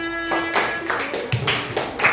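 A school class claps hands during a lesson, a few sharp, spaced claps coming in an uneven rhythm after a brief tonal sound, fairly close in a room.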